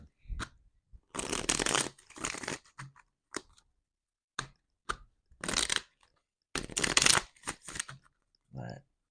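Tarot cards shuffled in quick crisp bursts, several separate riffles and snaps with short pauses between them, close and clear.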